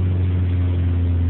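Exhaust note of a 2007 Honda Civic Si fitted with a Borla exhaust, a steady low idle drone with a deep, even rumble, brief and constant without revving.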